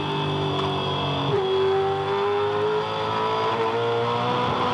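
A 2007 V8 Supercar at Hidden Valley Raceway accelerates out of turn six, its engine note climbing steadily under a smooth throttle after a brief dip, loud and close with no talk.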